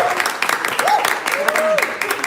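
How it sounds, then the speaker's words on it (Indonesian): An audience applauds four dance performers at an evening show, steady clapping heard under a voice and some tonal sounds, with the clapping fairly close and loud. "berikan tepuk tangan yang meriah kepada keempat penampil yang sangat luar biasa"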